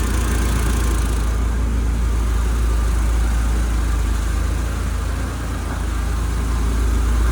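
A GAZ-69 with a ZMZ engine idles in a steady low rumble, constant and fairly loud from start to end with no talk over it.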